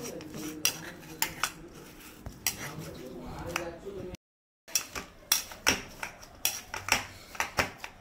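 Semolina is mixed by hand with ground fennel and cardamom in a metal bowl, giving a run of close clinks and scraping taps with a brief silent gap midway.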